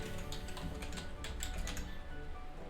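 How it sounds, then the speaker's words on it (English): Fingers typing a short word on a computer keyboard, a quick run of soft, close key clicks in an uneven rhythm, quiet and free of speech. "Type in the word testament"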